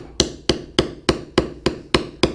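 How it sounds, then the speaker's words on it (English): A mallet strikes a leather carving tool in eight sharp, evenly spaced taps, close and crisp with short decays, working a leather carving; no talking. "Strike lightly, and then as you come down to the bottom, slowly taper it off."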